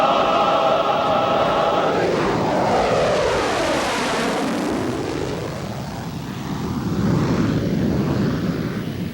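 An F-16 fighter jet passes overhead, a loud roaring rush with a falling whine as it sweeps past, then a sustained rumble fading and swelling again.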